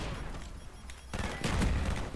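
Burst fire from the G11 rifle in Call of Duty: Black Ops 1 on Xbox, a dense rattling volley that swells loudly after a quieter stretch and runs on with no talk over it.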